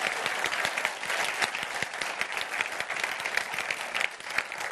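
A political talk-show audience applauds steadily, with dense, sustained clapping close by and no speech over it.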